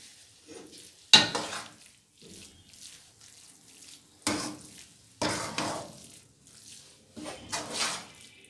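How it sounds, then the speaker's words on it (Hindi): Khoya is stirred into carrot halwa in a pan with the flame turned off, producing a few sharp scraping and squelching strokes separated by near-silent gaps, close to the listener, with no talking. "खोया डाल के इसको अच्छे तरीके से मिक्स"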